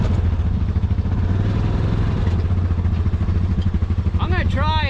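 A turbocharged Honda Pioneer 500 side-by-side drags uphill against a Rhino, its engine holding a loud, steady drone with rattling clatter and a rising whistling whine near the end, while someone talks.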